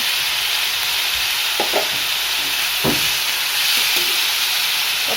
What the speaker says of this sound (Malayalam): മസാല കൂട്ട് തയ്യാറാക്കാൻ വേണ്ടി നമ്മൾ ചട്ടിയിൽ കുറച്ച് എണ്ണ ഒഴിച്ചിട്ടുണ്ട് ഞാൻ ചൂടായി വന്നാൽ നമുക്ക് സവാള ഇട്ട് കൊടുക്കാം നമ്മൾ സവാള വഴറ്റി കൊടുക്കുകയാണ്